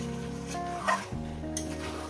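Chicken and potato curry being sautéed in a pan makes a brief soft sizzle with a couple of spatula scrapes, under background music.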